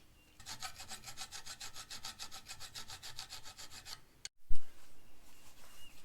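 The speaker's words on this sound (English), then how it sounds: "Doesn't hurt to do a little old school deburring with some files." A hand file rasps over metal creeper parts in steady, rhythmic back-and-forth strokes for about four seconds, close and fairly loud, then a sharp clunk follows.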